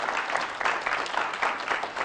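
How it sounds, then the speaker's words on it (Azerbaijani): A television studio audience applauds, a dense, steady clatter of many hands clapping at close range with slight swells, filling the whole moment without voices over it. "Alqışlayırıq sizləri."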